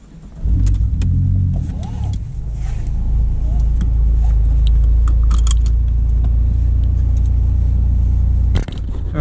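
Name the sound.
car engine with turbo-side intake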